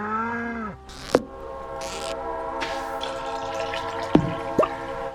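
Train passing in the farming game Stardew Valley, with a long harmonic horn blast followed by rolling rumble, bursts of noise and a few sharp metallic clanks, no voices.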